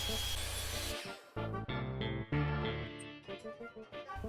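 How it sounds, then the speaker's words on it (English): A miter saw whines loudly, then cuts exotic wood blocks repeatedly in short bursts as it spins up and down, with clattering of wood between cuts. "I cut the blocks to size on the miter saw"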